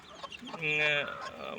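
A chicken of the native spotted Kappiri breed gives a single short, close cluck amid faint background sounds.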